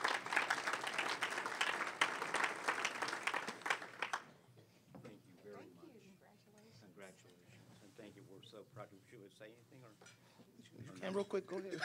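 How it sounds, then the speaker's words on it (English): Audience applause for an award recipient at a National League of Cities congressional conference fills the first four seconds, dense and steady. It then fades into a speaker talking over quieter room noise. "Let's give them a round of applause."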